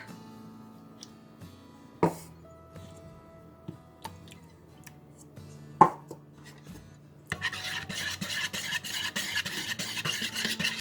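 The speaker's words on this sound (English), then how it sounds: "So in a small bowl, I'm going to mix my egg, oil, and milk." Egg, oil and milk are mixed in a small bowl for chocolate chip muffin batter: a few scattered clinks and taps, then steady, rapid whisking against the bowl fills the last few seconds, close and with no talking.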